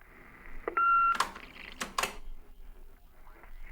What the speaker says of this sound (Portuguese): Desculpe pelos bips.